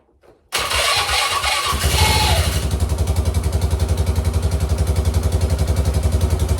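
A Polaris Sportsman ATV engine, freshly filled with new oil and coolant and running on a newly fitted battery, cranks briefly and catches. It settles into a loud, steady, throbbing idle close by, with no talking.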